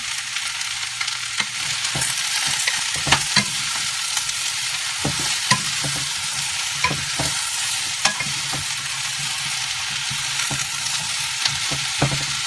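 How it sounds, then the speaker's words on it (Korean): Brussels sprouts and other boiled vegetables sizzle steadily in oil in a pan over high heat, with a constant close frying hiss and repeated sharp clicks and scrapes from stirring. "끓어놓은 야채를 넣고 한불에서 볶아주면 됩니다"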